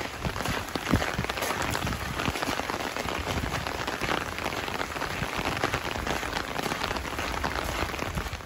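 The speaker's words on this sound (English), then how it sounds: "It has rained pretty much since like 10:30, but never super hard," Steady moderate rain falling along a hiking trail, a dense patter of drops striking surfaces nearby, constant and without talk.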